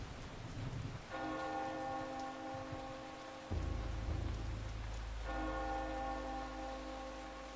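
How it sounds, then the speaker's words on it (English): Church bell rung by the custodian in the GameCube game Eternal Darkness, two loud resonant tolls with long ringing harmonics over steady rain and low rumble, the second strike beginning midway and sustaining to the end. "Custodian's tasked to ring the bell at the appropriate time."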